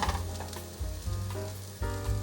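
Food stir-frying in a pan sizzles softly and continuously, with a few louder bursts of spatula scraping and tossing. No one speaks over it.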